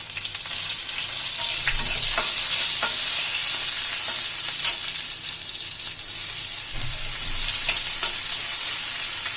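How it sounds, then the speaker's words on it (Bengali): Steady loud sizzling of dal added to hot oil with onion, with crackling spatters and occasional stirring scrapes throughout. "ডালটা দিয়ে দিয়েছি, বড্ড ছিটকায়"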